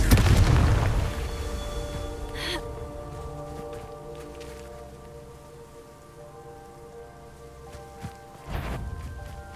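A fiery Confringo spell blast from the Hogwarts Legacy video game opens with a loud, booming burst that rumbles and fades over sustained ringing tones, with a couple of softer crackling bursts following later.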